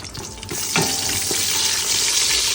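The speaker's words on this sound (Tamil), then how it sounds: "நம்ம திட்டமாக எண்ணெய் ஊற்றிக்கிறோம். பட்டை, ஏலக்காய், கிராம்பு, கொஞ்சம் சின்ன சீரகம் சேர்த்துக்கிறோம்." Cinnamon, cardamom, cloves and cumin fry in hot oil with a loud, close, bright sizzle that swells after the first half second and then holds steady.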